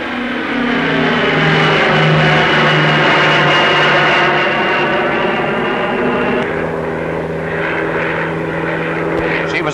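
A Handley Page Marathon 2 turboprop feeder airliner passes at a Farnborough air show, its loud, steady propeller drone and layered engine whine filling the air, shifting slightly in pitch as it flies by.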